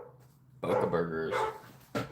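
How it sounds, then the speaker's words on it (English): A dog at a vegan dog rescue lets out a couple of loud, close barks in quick succession, with a short pause before a final bark. "now she wants to come over and bark."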